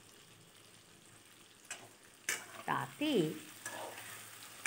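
Diced potatoes with salt and turmeric frying in a pan, a soft steady sizzle with stirring scrapes and a few louder clatters, a brief word spoken over it.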